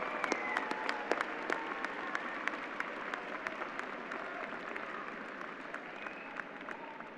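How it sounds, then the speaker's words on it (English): Audience applause at a high school graduation for faculty and staff, a sustained wash of clapping with distinct individual claps popping out near the microphone and a few faint whoops in a large room. "Will all of you please stand one more time for a round of applause?"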